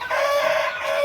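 A rooster on a free-range village chicken farm crows once, a loud, close, sustained call that holds its pitch for about a second.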